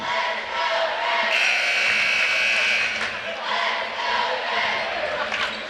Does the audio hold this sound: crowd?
yes